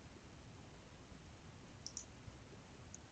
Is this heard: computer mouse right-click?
yes